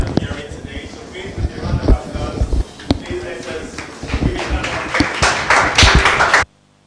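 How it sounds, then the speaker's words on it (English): Clapping at the 2019 FbStart Accelerator Demo Day startup pitch event starts as sparse, uneven claps, then thickens into fuller applause before cutting off abruptly. Background voices and thumps mix in. "please let us give it a round of applause"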